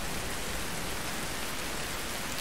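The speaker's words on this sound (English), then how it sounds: "We got rain." Steady rain falls outdoors during a rainstorm, an even, dense hiss of drops with no pauses, soft and fairly distant throughout.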